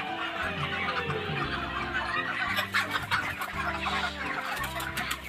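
Broiler chickens on a farm keep up a dense, steady clucking chorus, many birds overlapping at close range with no voices.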